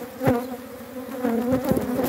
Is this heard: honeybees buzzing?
yes